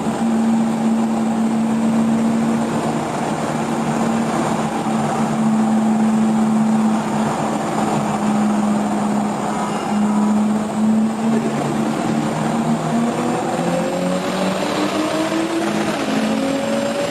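Turbocharged Toyota Supra with a 67mm turbo and 850cc injectors accelerating on low boost, a loud sustained engine drone rising in pitch through the gears over about seventeen seconds.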